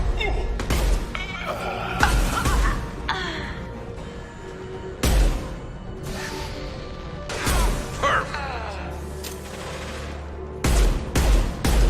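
Heavy gunfire from the Mass Effect 2 combat's impact shot, with loud repeated blasts and crashing impacts coming in bursts over about twelve seconds, mixed with battle noise and voices.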